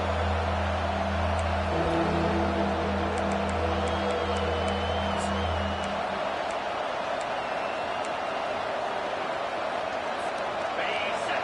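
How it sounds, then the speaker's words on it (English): Stadium crowd noise from the College Football 25 video game, in an LSU versus Central Michigan matchup: a broad, steady roar of cheering on a defensive third down, with a voice talking over it early on. "Decibels rising as the crowd gets behind this defense on 3rd down"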